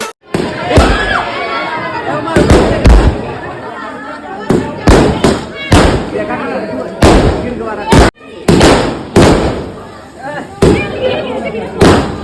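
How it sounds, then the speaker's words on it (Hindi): Firecrackers burst in sharp, loud cracks at irregular intervals at a wedding, with a crowd chattering in the background between the bangs. "अब जा रहे हैं पटाखा फोड़ने।"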